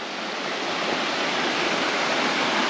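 A mountain creek along a hiking trail rushes steadily with a dense, even hiss of flowing water that is loud, close and continuous, with no talking.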